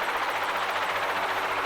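A loud helicopter in the video game Psycho-Pass: Mandatory Happiness drones steadily with a rapid rotor thump, constant and close throughout.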